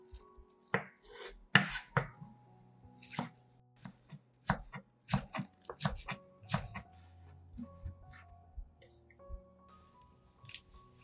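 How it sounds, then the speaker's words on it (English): Green onions chopped on a cutting board with a knife; a run of sharp, close knife taps, quick bursts at first, then a steadier rhythm of single chops, with faint rustling between strikes. "Next, I chopped some green onions."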